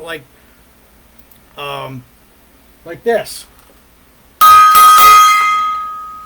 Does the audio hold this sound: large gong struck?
yes